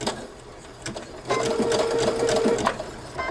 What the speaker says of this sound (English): now I'm just gonna stitch with the presser foot back and forth 4 or 5 times